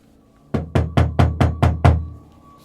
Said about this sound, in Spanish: escuchó que alguien llamaba a la puerta